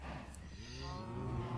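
A single low, drawn-out cow moo in a blocky video game, close and clear, with no talking.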